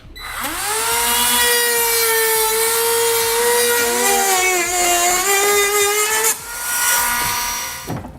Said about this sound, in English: We've got like a high-speed rotary tool here that we'll use